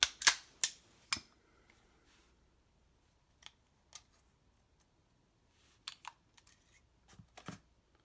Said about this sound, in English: let's go ahead and take down the pistol